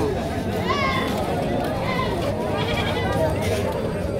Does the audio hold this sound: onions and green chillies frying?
no